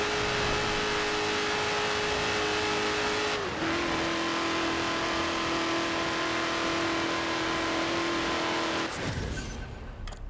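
A stock 2018 Dodge Challenger SRT in Forza Horizon 4 roars at high revs under hard acceleration, a loud sustained engine drone with a gear shift partway through and a sudden change near the end.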